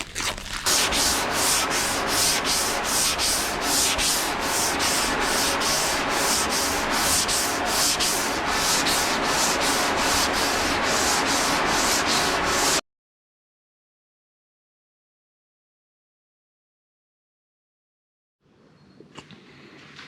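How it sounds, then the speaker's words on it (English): Steady, rhythmic back-and-forth hand sanding on a wooden boat centerboard fills the first part, followed by silence and then faint handling noises. "sanding out both sides of the board"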